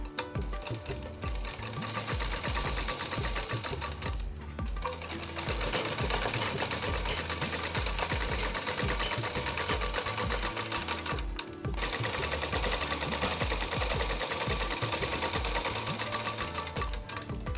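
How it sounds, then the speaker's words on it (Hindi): A sewing machine runs in long, rapid, steady bursts while double-stitching the front of a kurti, loud and close, with two short pauses between runs. "यहाँ फ्रंट पे हमें और एक सिलाई देनी पड़ती है जो डबल सिलाई कहलाती है"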